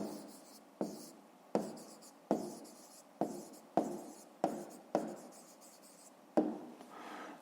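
Hand writing of a math answer, a pen or pencil scratching across paper in about nine distinct close strokes, each starting sharply and trailing off, with no talk.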